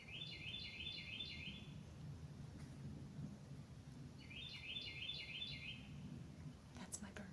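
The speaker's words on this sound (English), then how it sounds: "That's my bird." A pet bird gives two bursts of rapid, repeated chirps, the first near the start and the second a few seconds later, faint over a low rumbling background, with a brief clatter at the end.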